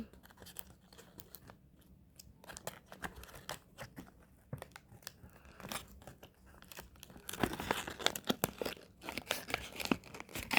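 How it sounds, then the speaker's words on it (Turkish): A package is torn open by hand, with irregular ripping and crinkling bursts that start sparse and quiet, then grow louder and faster toward the end, close up and without talk. "Ben bunu yırtıp geliyorum."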